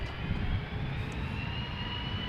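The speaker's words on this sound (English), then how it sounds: "KLM flight 877 A330-200 to Mumbai." KLM Airbus A330-200 jet departing Amsterdam Schiphol for Mumbai, a steady, loud broadband engine roar with a faint high whine running through, close and continuous throughout.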